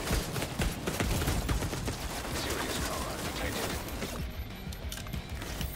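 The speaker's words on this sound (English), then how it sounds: "I think that guy's using a turret." Turret firing in The Division 2, a dense stream of rapid gunfire and impacts that eases off near the end, with a voice briefly heard.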